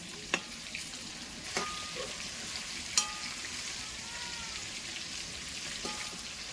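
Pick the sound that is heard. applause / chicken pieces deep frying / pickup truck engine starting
chicken pieces deep frying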